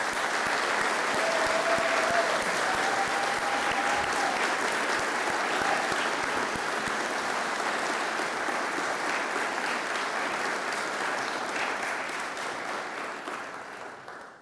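An audience applauds graduates at a 2017 SGIS graduation ceremony, with dense, steady clapping that holds loud for about twelve seconds and then tapers off at the end, along with a faint voice early on.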